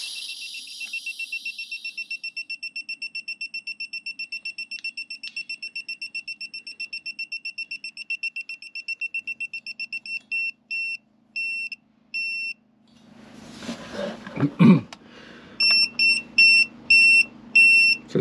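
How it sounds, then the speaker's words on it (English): A gas leak detector beeps in a long run of rapid high electronic chirps, pauses briefly, then resumes after a low rumbling handling noise while it checks a fitting. "if I would have a leak here, then of course it should beep"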